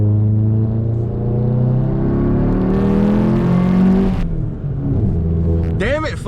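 A VW Golf GTI MK7 with an IS38 turbo drones steadily from the exhaust while driving, rising in revs and then dropping with a shift, loud and close, with brief talk in the cabin.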